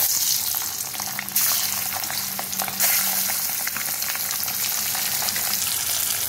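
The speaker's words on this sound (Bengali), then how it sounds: "এখন কড়াইতে তেল গরম হয়ে গেছে, আমি ডিমগুলো ভালো করে ভেজে নেব" Eggs fry in hot oil in a kadai with a loud, dense, steady sizzle close by, plus a faint hum and a few brief surges, and no talking.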